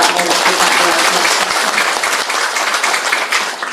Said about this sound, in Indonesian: Saya minta tepuk tangan dulu dong Pak